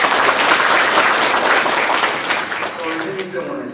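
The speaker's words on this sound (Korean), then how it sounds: "예, 박수로 환영하십니다." A church congregation claps to welcome a visiting hospital director with a full, loud round of applause that thins out near the end as a voice begins speaking.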